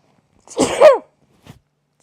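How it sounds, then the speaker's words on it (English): A single sneeze breaks out during a live scrapbooking session, a loud burst with a sharp intake and explosive release, followed by a faint short sound and then quiet. "I'm going to sneeze."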